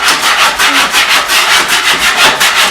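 Sharp, dried drywall mud is scraped off a shower corner in a close, loud, rhythmic series of about a dozen raspy strokes, each a short gritty rub.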